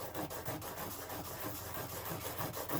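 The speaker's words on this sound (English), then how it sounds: "sand it down a little bit, making it just a little bit thinner" A small part from a Zebco 808 spinning reel's anti-reverse is rubbed back and forth on sandpaper laid on a flat lid, giving a steady, close scratchy rasp that runs without pause.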